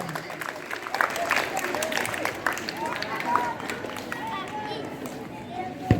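A group clapping for a correct answer in a Hindi general knowledge quiz, with steady, dense applause lasting several seconds, mixed with voices and some chatter.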